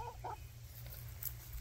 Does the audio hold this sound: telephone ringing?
no